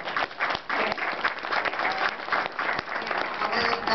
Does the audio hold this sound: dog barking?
no